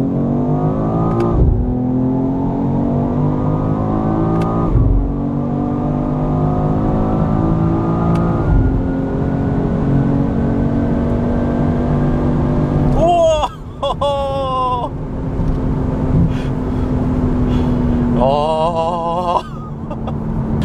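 A BMW X3 M Competition accelerates hard down a straight, the engine note climbing through several gears with sharp shift breaks, loud and close from inside the car, then settling into a steady high-speed drone.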